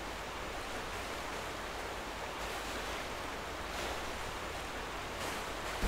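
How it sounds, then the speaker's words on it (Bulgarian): Steady, dense rushing water from waterfalls in the ninja video game Mini Ninjas, a continuous broadband roar at even loudness throughout with no talking. "Още водопади."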